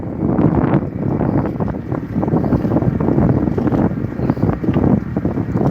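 A salmon gillnetting boat, the F/V Nancy, working in Alaska, with its gillnet drum spooling out net; a steady, dense mechanical and engine rumble runs throughout, mixed with gusty wind buffeting the microphone and no talking.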